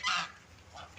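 A waterside duck gives one short nasal quack or honk followed by a fainter second call, both fairly distant over a low background hiss.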